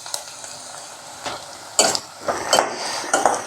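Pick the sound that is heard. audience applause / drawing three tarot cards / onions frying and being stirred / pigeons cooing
onions frying and being stirred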